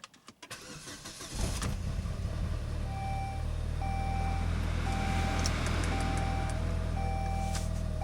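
A Saab car engine cranks briefly and catches, settling into a steady, close idle with a low hum, while a repeating beeping chime sounds over it; no one speaks.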